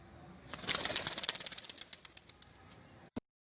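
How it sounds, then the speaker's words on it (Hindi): Pigeons take off in a rural Punjab village with a burst of rapid wing flapping, loud at first and then fading as the birds fly away, ending in a sharp click. "अब आपको मैं ये कबूतर उड़ा के दिखाऊंगा कि ये उड़ते हुए कैसे लगते हैं।"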